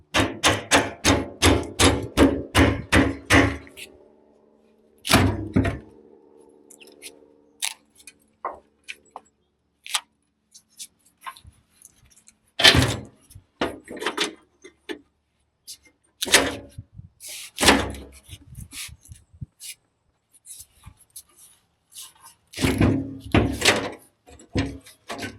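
Rusty fuel tank coming down from under a 1989 Ford F150, with a rapid run of metallic knocks and clanks up front, then scattered bangs and scrapes, a few louder clatters in bursts, close by with brief talk.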